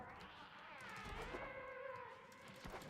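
Cats meowing in Warframe, the video game: a drawn-out, wavering meow-like wail over low game background noise, faint and distant.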